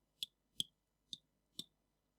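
Four separate clicks from calculator buttons pressed by hand, evenly spaced and crisp, close and quiet against near silence.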